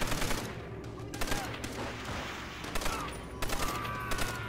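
Gunfire in Call of Duty: World at War, rapid sharp shots cracking in uneven bursts over a busy battle backdrop, with faint voices in the mix.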